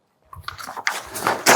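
Waste paper is torn into pieces by hand, heard as close, irregular rips and crinkles that build in intensity and end in a louder tear.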